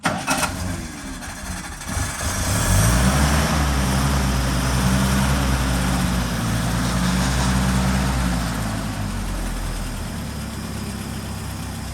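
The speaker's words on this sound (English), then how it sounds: "time to fire up the Go Devil" A Willys Jeep's Go Devil engine cranks briefly, catches and starts, then settles into a steady, loud idle that continues to the end.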